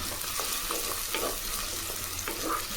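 Onion and crushed garlic sauté in hot oil for spicy oil-fried eggplant, giving a steady close sizzle with a few soft scrapes of stirring and no talking.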